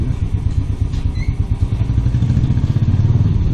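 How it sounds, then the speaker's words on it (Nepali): Motorcycles pushing through traffic on a one-way road, their engines producing a loud, steady low rumble with clattering at close range and no voices heard. "ट्राफिक वान वेमा यसरी छिरेर कुदेर"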